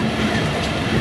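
A freight train rolls past on the rails near Tando Adam in light rain, a steady loud rumble and wheel roar heard close and continuous with no pauses.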